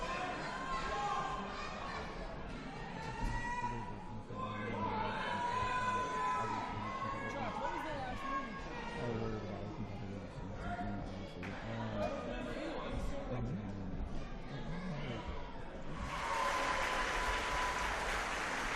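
Crowd applause and cheering at a live wrestling event, a dense wash of clapping and shouts throughout with a commentator talking over it, swelling louder near the end.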